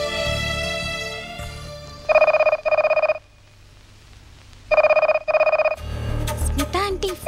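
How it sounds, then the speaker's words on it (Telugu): A house telephone rings in two bursts of double electronic trills, loud and close, separated by a silent pause, with music and voices heard before and after. "ఫోన్ రింగ్ అవుతుంది"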